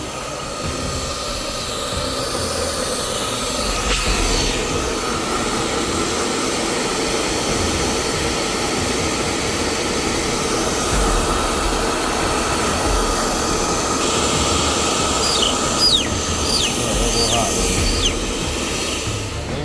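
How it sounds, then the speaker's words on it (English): A steady, loud blowing roar runs continuously from a hair dryer drying off chickens after a hurricane, with faint voices murmuring underneath. "let's grab them one by one and blow them off with the hair dryer"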